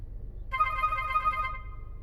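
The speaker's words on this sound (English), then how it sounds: "My phone is ringing, so it's gonna just have to ring." A phone rings with a bright electronic ringtone: steady harmonic tones start abruptly and sustain for about a second, then cut off, over a low background hum with no talking.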